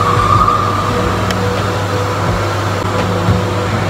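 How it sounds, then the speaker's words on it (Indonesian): Steady broadband roar of a passing vehicle with a low rumbling drone, continuous and fairly loud throughout, no voices. "Kau dengar tak bunyi kereta tu?"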